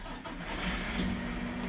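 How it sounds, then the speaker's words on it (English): Manitex crane engine cranking and catching, a low mechanical rumble that steadies into a constant engine drone, heard from inside the tilting cab, with no talk. "And see, engine starts."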